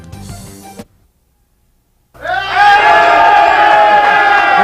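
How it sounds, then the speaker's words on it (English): White Sox fans at the Brickyard in Blue Island roar and cheer, the noise swelling abruptly after a second of silence and holding loud and sustained, following a short burst of earlier sound. "this crowd is fired up"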